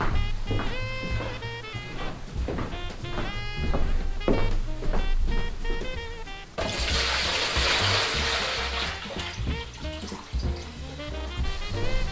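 Water pours from a tap into a bucket while filling a Christmas tree stand reservoir, a steady loud splashing rush that swells partway through, with music playing underneath.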